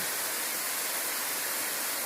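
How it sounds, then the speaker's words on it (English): A creek at Turkey Run State Park in Indiana flows in a steady, even rush of water, moderately soft and continuous with no voices. "please enjoy the flowing sounds of the river"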